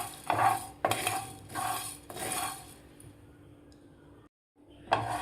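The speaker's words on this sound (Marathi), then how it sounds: "थोडासा सुगंध येईपर्यंत आपल्याला हे मसाले भाजायचे आहेत" Whole spices are dry-roasted in a pan and stirred with a metal spoon, giving several sharp scraping, rattling strokes, a quiet pause and one more scrape at the end.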